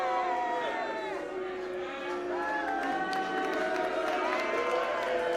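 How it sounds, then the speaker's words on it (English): A wrestling audience at an Atomic Wrestling show in Liverpool, England, jeers and boos, sustained voices swelling and wavering under some nearby talk. "Why are you guys booing Ethan?"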